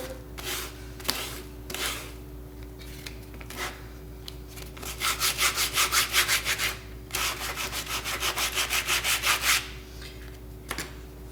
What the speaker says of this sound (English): You can sand as much or as little as you want.